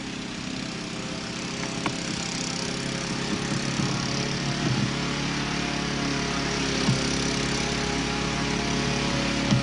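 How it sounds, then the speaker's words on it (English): A distant mower engine drones steadily for the whole stretch, a continuous low motor hum with a dense wash of outdoor background noise and no voices. "We don't know if he's mowing or not."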